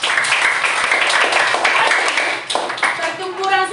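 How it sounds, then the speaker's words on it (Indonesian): A class of students claps for a classmate during a school history lesson, producing a burst of brisk, fairly loud clapping mixed with chatter and voices. "Oke, tepuk tangan untuk Fadel"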